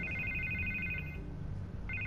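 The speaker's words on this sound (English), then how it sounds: "I can't get the phone to stop ringing." An electronic phone rings in Batman: The Telltale Series, a warbling trill that sounds for about a second, pauses, then starts again over a low background hum.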